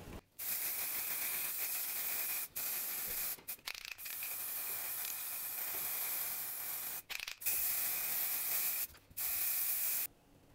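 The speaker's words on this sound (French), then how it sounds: "c'est parfait pour lui appliquer le spray velours" Velvet spray gun misting a coating over a frozen log cake after unmolding: a steady, loud airy hiss in long bursts, broken by several brief pauses between passes.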